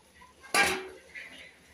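Chickpeas for chhole aloo sabji drop into a cooking pan with a single sharp clattering burst, fading into a light sizzle and faint scraping afterward.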